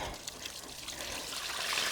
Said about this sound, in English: Oh, there's the water.